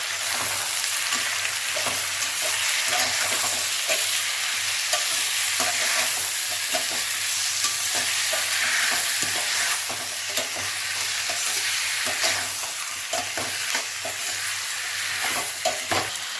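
Tomatoes frying with sautéed onions for a tomato thokku, a continuous loud sizzle with steady stirring scrapes throughout, close and unbroken, with no talk.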